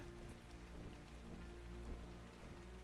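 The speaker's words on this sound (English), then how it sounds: "Raining again, by the way. More rain." Rain falls in the video game ARK: Survival Ascended, a soft steady patter on surfaces with faint low rumbling underneath, quiet and continuous with no speech.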